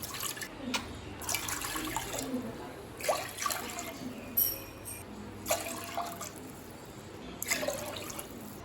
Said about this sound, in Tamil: குக்கரில் 5 கப் தண்ணி சேர்த்துக்கலாம்.